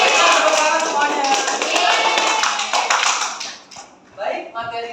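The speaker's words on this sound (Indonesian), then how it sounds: "Tepuk tangan semuanya." A class of children clapping together during a classroom lesson, a dense burst of quick claps that fades out near the end as a voice speaks.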